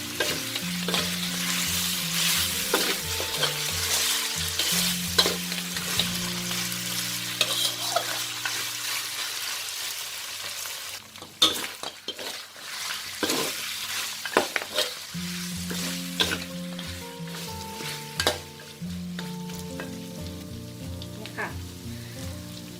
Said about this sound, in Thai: เราจะคั่วกระดูกหมูเราสักพักนึงก่อนนะคะ